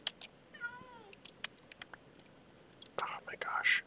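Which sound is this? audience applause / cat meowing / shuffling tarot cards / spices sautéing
cat meowing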